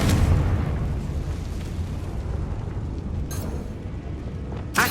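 A deep rumbling explosion from the Confringo spell in Hogwarts Legacy, a loud boom at the start that decays into a sustained roar, with two sharp pops later on.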